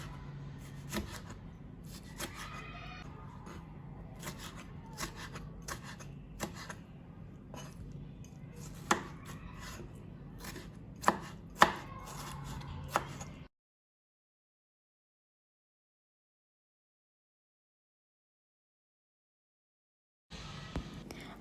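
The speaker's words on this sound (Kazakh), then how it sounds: "Келесі қызанақты да майда етіп 4 бұрыштап турап шығамыз." A knife taps repeatedly on a cutting board while tomatoes are diced into small cubes, making quick, irregular chops that are close and fairly quiet. The chopping stops for a stretch of silence, then briefly starts again.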